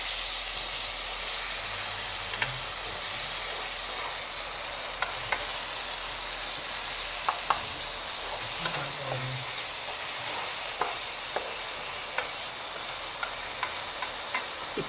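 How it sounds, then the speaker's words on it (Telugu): Chili powder being stirred into onions frying for a cauliflower tomato curry: a constant dense sizzle with scattered spoon clicks and scrapes, close up and even throughout. "బాగా కలపండి."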